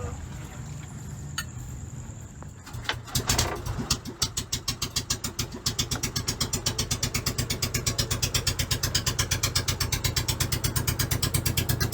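A boat engine cranks briefly, catches and settles into a steady, rapid idle with an even mechanical chugging, close and loud with no talking, at sunrise on a trip in Cebu, Philippines.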